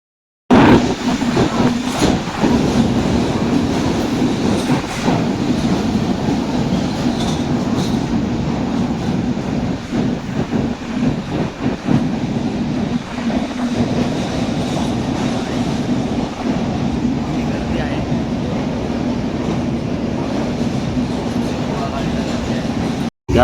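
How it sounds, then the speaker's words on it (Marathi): Inside a crowded moving local train near Panvel, a loud continuous rumble with rhythmic wheel clatter and occasional squeals carries on throughout, with passengers' voices murmuring underneath. "मस्त ट्रेनमध्ये गर्दी पण खूप आहे."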